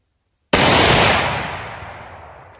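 One loud, close report from a Ruger Go-Wild .243 hunting rifle at an outdoor range, an abrupt blast that rolls off into a long fading echo.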